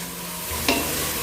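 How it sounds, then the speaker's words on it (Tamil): Green chili, mint and coriander being sautéed in a pan for ghee rice: a steady close sizzle of frying with a brief scrape of stirring in the middle. "இப்போ இதையும் நல்லா வதக்கி விட்டுறலாம்."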